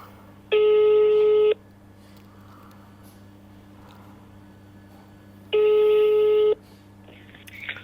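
Phone line tone heard while on hold waiting for a firearms licensing operator: two long steady beeps about five seconds apart over quiet room noise, with no talking.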